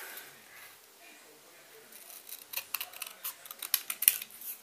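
Scissors cut a paper oval in half for handmade paper bows in a scrapbooking craft, a run of crisp, close snips that grow louder and quicker toward the end.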